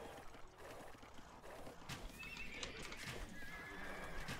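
Horses neigh and whinny amid clip-clopping hooves and clashing battle noise in Age of Empires 2, a dense, busy mix of repeated whinnies and hoofbeats with no talking.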